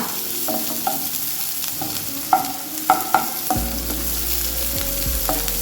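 Onions frying in a pan for palak curry, a steady sizzle broken by clinks and scrapes as a spoon stirs them, close and alone with no talk.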